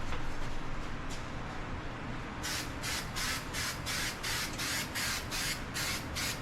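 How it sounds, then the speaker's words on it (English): A spray can paints a homemade lantern case: one longer hiss, then a run of about ten short, even spray bursts close to the mic, with no talking. "so I'll spray one side of this really good."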